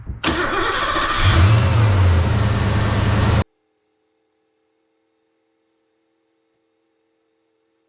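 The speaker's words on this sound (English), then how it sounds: "I'm gonna go ahead and start the engine and get that water pump going." A 1990 Ford Mustang engine cranks and fires up, settling into a loud, close idle for a few seconds before the sound cuts off abruptly into near silence.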